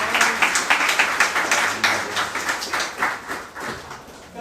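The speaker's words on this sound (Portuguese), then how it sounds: "Será que você pode dar uma salva de palmas ao Senhor?" A church congregation clapping in steady rhythmic unison, dozens of sharp claps at a quick regular beat, loud and close, without talking.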